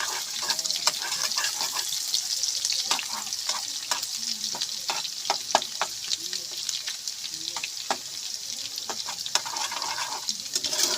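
Garlic and ginger fry in a pan with reddened onions, sizzling steadily up close while a spatula scrapes and clicks against the metal in quick, irregular strokes throughout.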